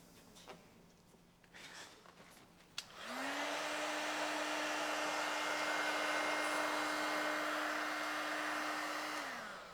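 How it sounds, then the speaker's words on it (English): A heat gun switches on after a few faint handling sounds and blows with a steady, loud whirring hiss and whine while it heats vinyl wrap on the front door of a 2024 Tesla Model 3. "And go over with the heat to lock it in."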